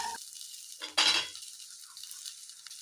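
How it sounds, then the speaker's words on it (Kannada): Chicken manchurian fries in a pan in a home kitchen, with a soft sizzle, a sharp clink or scrape of a utensil against the pan near the middle, and quiet frying noise around it. "ನೋಡಿ, ಈ ಥರ ಒಂದು 2 ನಿಮಿಷ ಚೆನ್ನಾಗಿ ಫ್ರೈ ಮಾಡಿದ್ದೀನಿ."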